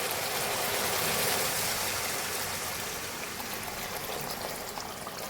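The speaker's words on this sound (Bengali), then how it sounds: "এবারে আমি গরম জল দিয়ে দেবো।" Hot water pours steadily into a pan of spiced curry masala for a soybean muithya dish, making a continuous, close, hissing splash that eases slightly toward the end, with no voices.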